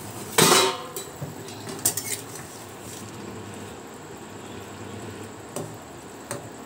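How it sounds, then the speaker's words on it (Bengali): A cooking pot lid is lifted off a simmering vegetable curry with a sharp metallic clank, followed by a few lighter clinks and taps of metal against the pot, close and alone. "আমি এবার ঢাকনাটা খুলছি।"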